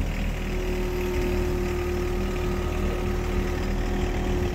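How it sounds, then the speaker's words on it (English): A tractor engine runs steadily and close, with a droning low rumble and a constant hum while it is being shifted into gear for work on a market garden, with no talking. "I'm trying to get a tractor"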